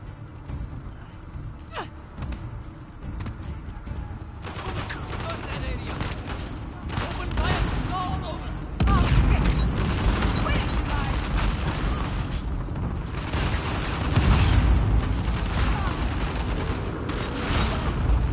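Heavy shotgun blasts and surrounding gunfight in Uncharted: The Lost Legacy, loud booming shots layered over dense combat noise that grows louder midway and keeps a continuous battlefield roar.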